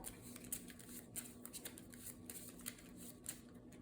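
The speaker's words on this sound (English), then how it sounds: "let's shuffle up our deck here" Soft, quick riffling of a Marvel Champions card game deck being shuffled, a series of faint flutters and light taps, quiet and close.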